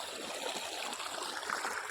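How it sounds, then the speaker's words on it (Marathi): Soft, steady babble of water flowing through an irrigation channel in a vegetable field, a gentle trickling stream running quietly and continuously with no voices. "इकडे छानपैकी असं पाणी वाहतंय"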